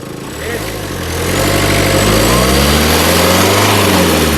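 A 2017 Renault Scala RXL engine idles, then revs up and holds a loud, steady drone with rising and falling pitch, close by.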